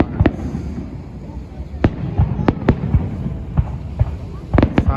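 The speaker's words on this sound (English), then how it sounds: "Fireworks." Victoria Day fireworks in Canada explode in a string of sharp booms, some close together and some spaced out, over a low rumbling background with faint voices of onlookers.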